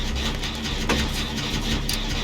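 A chainsaw in the Dead by Daylight video game revs and idles with a steady mid-pitched engine drone, plus a couple of brief sharp bursts, heard alone with no talking.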